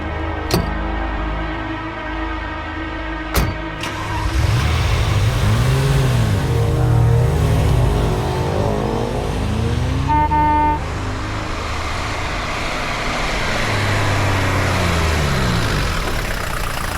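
A car pulling away on a street, two short horn toots at the start, then the engine revving up and rumbling steadily as it drives off, loud and close.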